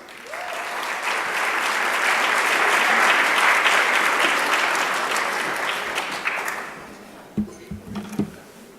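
A room of guests at a Caribbean tourism awards event in Jamaica breaks into a sustained round of applause welcoming a speaker, swelling then fading, with a voice and mic handling sounds near the end.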